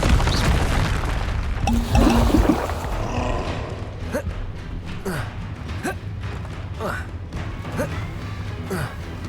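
Expelliarmus disarming spell cast in the video game Hogwarts Legacy: a loud booming burst with crashing impacts near the start, followed by swishing, whooshing magic effects over a steady game soundscape.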